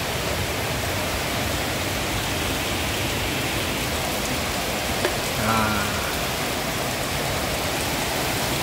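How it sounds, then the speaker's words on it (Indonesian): Steady heavy rain pours down, a dense even hiss throughout with a brief faint voice partway through. "kalau hujan nih enak"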